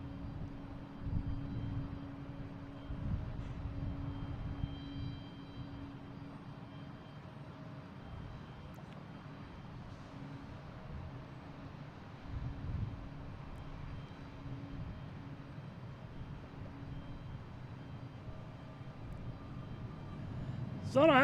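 A Delta 737 airliner takes off from Boston Logan, its engines a steady distant rumble that rises and falls slightly, with someone talking over it throughout.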